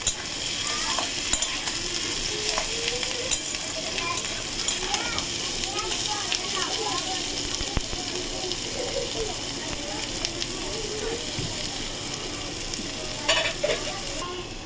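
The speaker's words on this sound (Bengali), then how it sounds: "আমার ভাজা হয়ে গেছে ক্যারট আর পেঁয়াজ।" Carrot and onion frying in a pan with steady, close sizzling and scraping stirring strokes throughout, continuous and fairly loud with occasional clinks.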